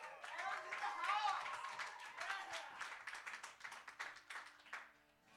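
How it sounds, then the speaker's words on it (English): Steady applause from an open-mic audience in a bar, continuous hand clapping at moderate volume with voices mixed in, fading toward the end. "he deserves a round of applause just for that"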